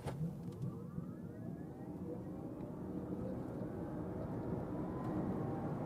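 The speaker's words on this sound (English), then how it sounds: "That was 0 to 100 kilometers an hour or 60 miles an hour with the 55 model" An Audi Q8 e-tron 55 electric SUV accelerating hard from 0 to 100 km/h, a steady rising whine and road roar heard from inside the cabin, fairly quiet and continuous.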